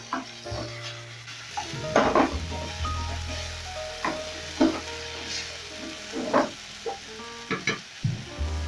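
Sizzling frying in a pan after soy sauce is added to vegetables for scrambled eggs, a steady hiss punctuated by repeated clinks and scrapes of a utensil stirring against the pan.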